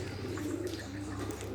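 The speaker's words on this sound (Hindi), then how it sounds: "आज इसको कबूतरी को आज़ाद करने वाले हैं" A pigeon coos softly in low, rolling murmurs, close up, with no other sounds around it.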